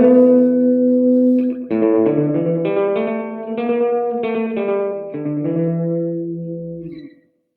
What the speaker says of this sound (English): it's just a bare bones echo.